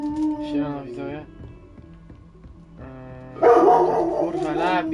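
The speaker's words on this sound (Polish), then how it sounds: "Labi, przestań szczekać" A dog named Labi barks and yips close by in short bursts, mixed in with a voice talking over it.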